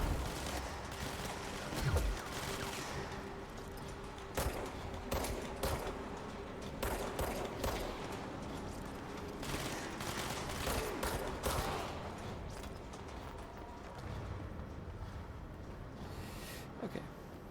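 Video game gunfire rattles in irregular bursts of shots, loud and close, with mechanical clicks between volleys.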